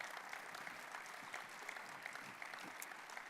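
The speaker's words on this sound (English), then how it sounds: "yeah, round of applause" Audience applause after a memorial presentation at an entomology congress, a steady wash of clapping heard from a distance and fairly faint.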